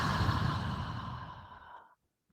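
One long, deep exhale during a vinyasa power yoga session, a breathy sigh-like rush of air that starts full and close, then gradually fades over almost two seconds before ending in near silence.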